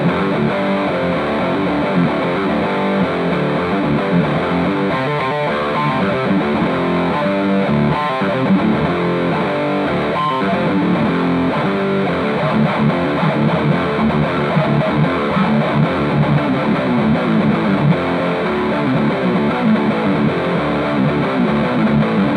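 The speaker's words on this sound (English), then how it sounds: "Now I'm going to saturate that gain and let it rattle your skulls" An electric guitar through a Devilcat Jimmy amp with its gain saturated plays a dense, heavily distorted riff, loud and continuous for the whole stretch with no talking.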